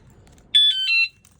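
An aftermarket key-fob anti-theft alarm on a Cycrown Cychunter 2.0 e-bike goes off: a loud, close, shrill electronic tone pulsing about four times in quick succession, then stopping.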